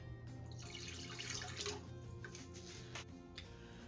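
Water pours steadily from a tap into a vessel, a continuous splashing rush with low background hum.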